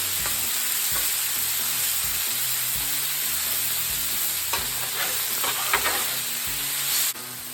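Venison cooking over high heat on a Blackstone griddle, a loud continuous sizzle with periodic scraping and stirring clicks of a spatula close by.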